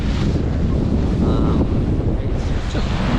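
Strong wind buffets the microphone aboard the sailboat Maunie of Ardwall, sailing under Yankee and main off Guernsey and Brittany, a loud, continuous rushing roar mixed with the wash of waves.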